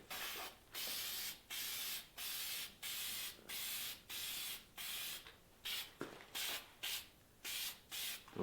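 Light coats are sprayed onto car parts for a Subaru STI front end, in a series of short, even aerosol hisses with brief pauses between them, fairly faint and steady in rhythm.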